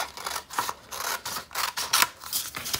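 Scissors snip through green paper along a fold line in an origami craft, a run of crisp, rhythmic cuts close by with brief pauses between strokes.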